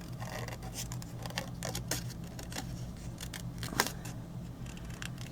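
Scissors cut paper along a pencil guideline while making a Halloween tombstone treat gift box, with a close, quiet run of crisp snips and scratchy paper rustles repeating in an irregular rhythm.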